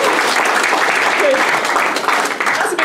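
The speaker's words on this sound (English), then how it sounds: "can we have a big round of applause for our best now?" Loud, sustained applause from a crowd at a wedding fills the room, with some cheering and voices mixed in.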